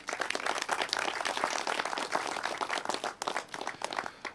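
Applause at a Masonic lodge's 100-year anniversary gathering, a steady patter of clapping hands that fills the whole stretch without voices on top.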